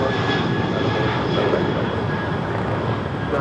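Steady, loud roar of an airliner engine at LAX airport, a continuous broadband rumble holding evenly throughout with no break.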